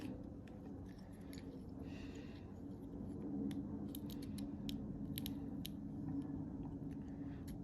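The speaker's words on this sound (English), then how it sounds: "So you can hear the glue coming off in the background very slowly." Glue slowly giving way as a plastic pry tool works under the screen of a GoPro Hero 10: faint, close crackling and sticky peeling ticks, scattered irregularly over a low steady background hum.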